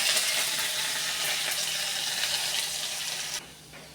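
Panch phoron, dried chillies and ginger hit hot oil for sambar, making a loud, dense, continuous sizzle that holds steady and then drops away abruptly just before the end.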